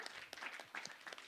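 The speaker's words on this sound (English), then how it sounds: "Round of applause." Brief, faint applause from a church congregation celebrating, a short patter of scattered claps.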